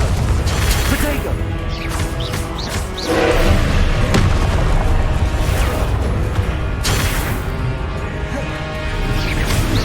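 A Confringo blast spell exploding in Hogwarts Legacy inside Rookwood Castle, heavy crashing booms and thuds amid constant battle clatter and whooshes, loud and close throughout.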